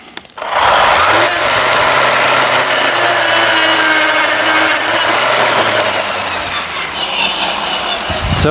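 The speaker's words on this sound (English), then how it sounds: "This can cut that easily with a brush cutter attachment like that." A Ryobi brush cutter attachment chews through saplings with a loud, continuous high-pitched whine and rasping grind that holds steady for several seconds before cutting off abruptly.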